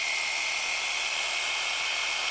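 Steady, loud buzzing whir of a reciprocating saw blade running freely, close by and continuous with no pauses.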